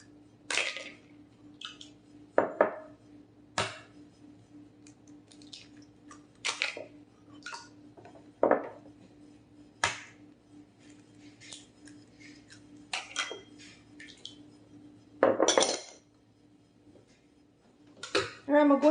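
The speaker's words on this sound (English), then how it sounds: "All right, it's time to add the eggs." Three eggs cracked one by one into a bowl of cake batter for a German chocolate earthquake cake, giving sharp taps and brief wet drops spaced a few seconds apart over a steady low kitchen hum.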